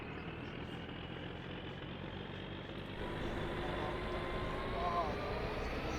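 A car engine in the game My Summer Car drones steadily under throttle, a low continuous hum that swells slightly louder partway through.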